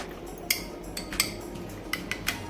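A metal spoon stirring cornflour into cold milk, with a run of light clinks and taps against the vessel at an uneven pace, close but quiet, and no voices.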